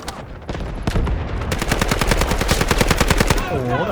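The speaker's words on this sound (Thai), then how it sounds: "โอ้โหยิงระยะไกลก็แบบไม่เร็วนะ ปืนนี้แบบนิ่งเลย" SMG 45 submachine gun firing in the shooter game Delta Force, a long rapid-fire burst of sharp, evenly spaced shots, loud and close, with a brief lead-in before the sustained stream.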